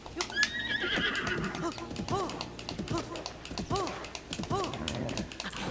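Horse in a video game whinnying loudly at the start, then rhythmic clip-clop of hooves trotting, with a person's voice and quick button tapping mixed in underneath.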